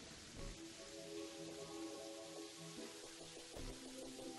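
Rain from a rain cloud enemy in Terraria falls as a steady, soft hiss of patter beneath layered game music, faint throughout with a couple of brief swells.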